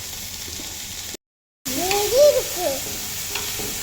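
Onions frying in a pan for chicken curry: a steady close sizzle, broken by a brief silent gap, then continues while a voice speaks briefly over the cooking.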